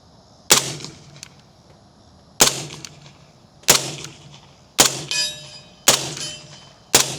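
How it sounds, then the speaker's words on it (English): Six sharp, close shots from a suppressed Century AP5 SD firing 147 grain rounds at an outdoor range, spaced about a second or two apart. Each loud crack carries a metallic clang and a short ringing decay, with no voices. "And I'm going to shoot the 147 grains again."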